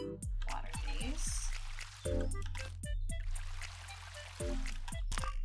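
Watering crops in the farming game Ooblets: several splashy pouring bursts of water in a loose sequence, mixed with soft game sound effects and tones, moderately loud and close.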